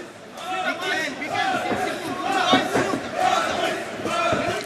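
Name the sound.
crowd cheering at MMA fight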